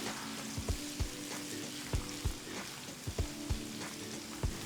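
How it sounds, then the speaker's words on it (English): Thinly sliced onions sauteing in hot oil with cumin seeds in a pan, a steady crackling sizzle broken by repeated utensil scrapes and taps at an uneven rhythm, close and fairly quiet, with no talking. "Saute the onions for a few minutes."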